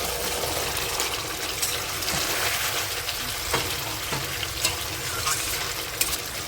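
Water trickles into a hot pan of fried koi fish curry cooked in spiced oil with cumin and ginger, and the masala sizzles and bubbles steadily throughout, close and fairly loud.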